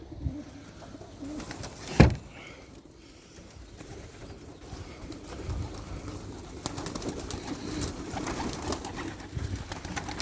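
Pigeons coo softly in a backyard loft on a breezy day, with low murmuring calls over steady outdoor wind noise and one sharp knock near the start.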